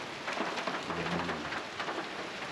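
Heavy typhoon rain pours steadily onto surfaces in flooded Sampaloc, Manila, during Typhoon Crising, a dense continuous hiss with a faint low rumble beneath, no voices.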